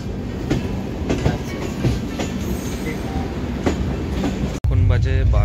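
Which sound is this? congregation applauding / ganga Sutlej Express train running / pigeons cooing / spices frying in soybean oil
ganga Sutlej Express train running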